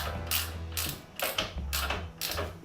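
A motorcycle jack ratchets as it lifts a bike, giving a series of sharp mechanical clicks in short bursts with brief pauses between strokes, close and clear, with no talking.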